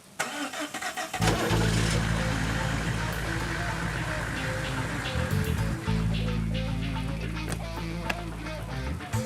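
A car engine cranks and catches after a replaced wiper fuse, then settles into a steady, fairly loud idle hum with a brief dip midway, over soft background patter.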